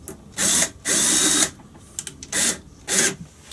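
Power drill boring a hole through an acoustic guitar, finish covered in masking tape, to fit an LR Baggs Anthem SL pickup; four loud whirring bursts of about half a second each, with short pauses between, close by and alone.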